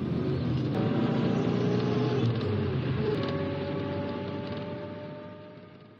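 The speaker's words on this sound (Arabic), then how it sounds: "شايف كم عربيه؟ كم عربيه امن مركزي؟" Convoy of Central Security Forces trucks moving in to surround Warraq Island in Egypt, a steady loud engine rumble and road roar that holds for several seconds and slowly fades as the vehicles pass.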